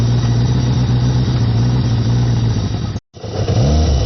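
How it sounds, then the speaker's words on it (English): A warm motorcycle engine runs loud and close with a steady mid-pitched drone, cuts out briefly, then catches again and settles back into running. "I started up earlier, so the engine's slightly warm, so it'll start right up."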